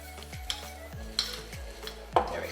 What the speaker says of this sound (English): Put all that garlic in there. And we're going to just combine it